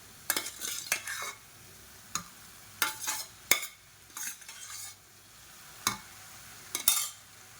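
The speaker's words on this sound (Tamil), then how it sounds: "இதை சேர்த்து விட்டுட்டு நல்லா கலந்து விட்டுக்கலாம்." Cooked basmati rice being stirred into a cauliflower and pea masala in a pan, irregular scraping strokes of a spoon with short pauses between them over a faint sizzle, close and clear, no talking.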